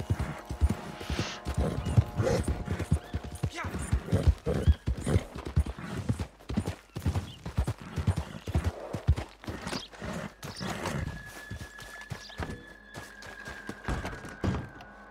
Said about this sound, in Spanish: Se me ahoga el caballo, ¿eh?